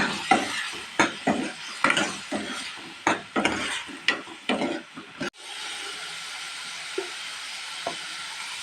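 Eggplant pieces and salt being stirred in a pan for a tamarind gravy, with a run of close, rhythmic scraping strokes for about five seconds, then a quieter background with only a couple of faint taps.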